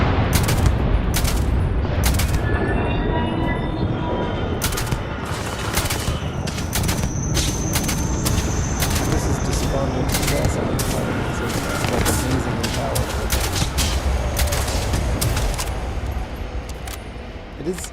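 Weapon gunfire in the video game Starfield, a long stretch of loud, rapid repeated shots with sharp cracks and dense combat noise, sustained almost throughout and thinning out near the end.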